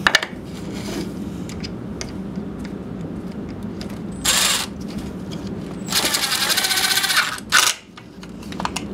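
A driver sinks a screw into a pocket hole in a small woodworking build, giving two short whirring bursts, the second longer, over a quiet room hum, with a faint clink at the start.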